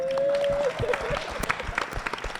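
An audience gives a short burst of scattered clapping at an informal talk, starting after a sustained tone and thinning out over about two seconds.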